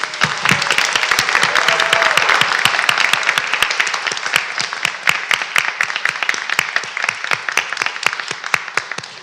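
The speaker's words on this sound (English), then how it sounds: "Please give a huge round of applause to all of the honorees tonight" At a disability service awards session, a room claps for the honorees: dense applause that thins into distinct, rhythmic individual claps, fairly near and loud, with a brief voice early on.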